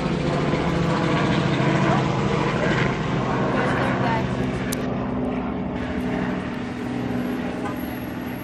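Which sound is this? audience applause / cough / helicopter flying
helicopter flying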